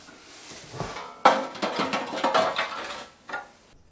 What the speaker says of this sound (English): Let's get this ash pan out of here anyway.